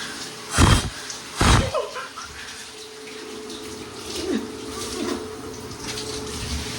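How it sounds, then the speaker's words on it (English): A shower runs with a steady hiss of water, close and fairly loud, broken early by two sharp knocks or thumps. "Just feel the aura of the shower, like."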